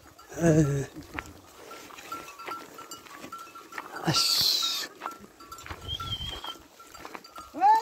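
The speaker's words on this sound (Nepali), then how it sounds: "यो बाख्रा पनि रहेछ नि त यो" Goats bleat among sheep being herded toward a forest, with one loud nearby bleat early on and fainter calls later, while people talk intermittently over the scene.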